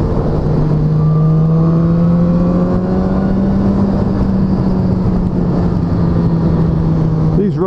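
A BMW S1000R motorcycle pulls hard along a winding road, its engine a loud, close, continuous drone rising slowly in pitch as it winds on, with heavy wind rush throughout.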